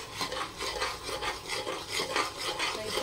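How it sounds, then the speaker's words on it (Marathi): Red chilli powder and home-made masala stirred and sautéed in oil in a pan for an aloo mutter curry, a steady scraping, rubbing sizzle with rhythmic spoon strokes, close and moderately quiet. "असं मस्त तेलामध्ये मसाल्यामध्ये असं परतून घेऊया।"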